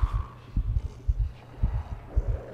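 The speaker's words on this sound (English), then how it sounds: "You can hear your heartbeat in this game" Heartbeat in the video game Inside: low, soft paired thumps repeating steadily at a moderate pace, close and alone against a faint hum.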